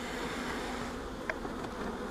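Honeybees swarm over a flowering bush, a dense, steady buzzing hum close around with a brief louder pass partway through, no voices.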